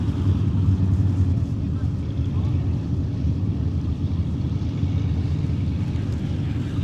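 A car runs through a motorkhana stage at the Cliffhanger event, a steady, loud low engine roar mixed with wind buffeting throughout, with no clear gear changes.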